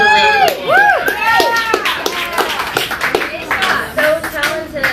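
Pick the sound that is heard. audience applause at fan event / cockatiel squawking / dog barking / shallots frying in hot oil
audience applause at fan event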